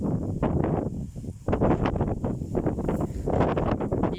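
Strong gusting wind sweeping across an open field, kicking up sand, roaring in uneven buffeting surges against the microphone, loud and close with no talk.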